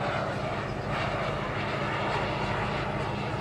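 Radio-controlled model airliner flying at an airshow, a steady broadband engine roar holding at moderate level throughout with no clear rise or fade.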